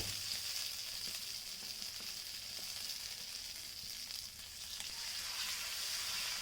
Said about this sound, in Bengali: এই তেলের মধ্যেই সব মশলাগুলো ভালো করে মিক্সড করে নিতে হবে